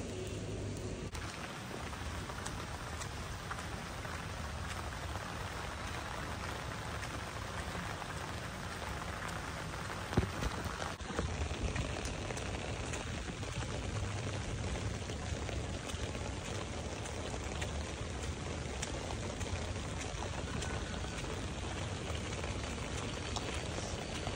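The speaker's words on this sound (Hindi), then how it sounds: "बारिश हो रही है, देखो।" Steady rain falls continuously, a dense hiss of drops with a brief louder patter partway through, no voices.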